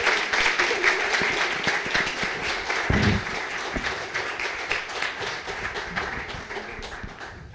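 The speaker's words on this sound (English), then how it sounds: "Round of applause for the panel." An evening audience at a panel event on building a cycling city breaks into sustained applause, a dense clatter of many hands clapping that holds steady and slowly fades.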